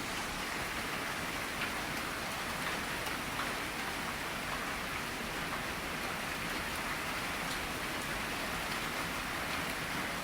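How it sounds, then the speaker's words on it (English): Heavy rain pours steadily outside during a thunderstorm, a dense, even wash of close rain noise with no breaks and no thunder standing out. "It's pouring outside."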